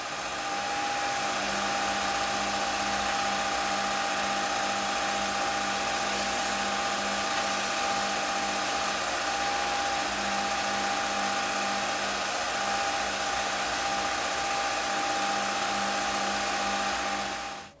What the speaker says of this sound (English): we take our paper towel and we apply pressure so that we develop a little heat and friction on our wood